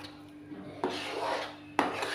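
A spoon scrapes and knocks against a pan while a sweet milk powder mixture is stirred over low heat, a soft steady scraping with two sharper clinks, close and alone.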